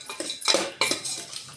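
Lemon rice stirred in a metal pot, a spoon scraping and knocking against the sides in a few close, clattering strokes.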